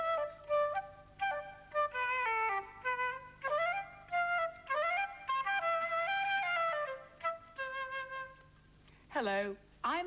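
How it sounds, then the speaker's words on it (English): A flute plays a lilting melody of short phrases with gliding, bending notes, moderately loud and close. The brief pauses between phrases are separated by gaps, and a quick rising and falling sweep comes near the end. "that was the sound of my flute"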